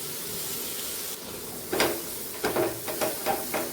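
Spices and a large chopped tomato sizzle in a pan for a spicy tinda (round gourd) curry. A steady frying hiss is broken by several sharper bursts of stirring and crackle in the second half, close and with no talking.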